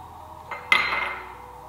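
A single metal clink and short scrape against a pan rings out as basil is mixed into a trout Spanish omelette, over a faint background hum.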